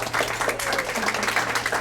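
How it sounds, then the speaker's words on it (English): A small audience at a club meeting gives a short round of applause, a busy patter of many hands clapping close together over a low steady hum. "let's give him a round of applause"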